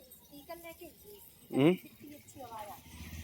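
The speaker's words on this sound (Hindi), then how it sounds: "और दोस्तों निकल गई अपने फार्म से बकरी, क्योंकि अब इनका टाइम हो गया है खाना खाने का।" Goats leaving their farm bleat in short bursts, one loud close call standing out midway, with a few fainter bleats around it and low talk in the background.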